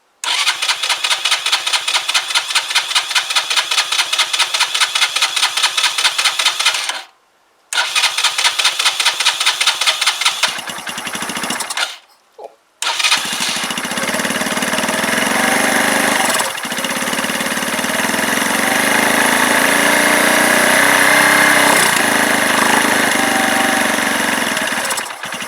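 A Keeway RKV125 motorcycle that has sat for weeks cranks repeatedly on full choke with a rapid starter whirr, pauses twice, then catches and settles into a steady, loud, close idle.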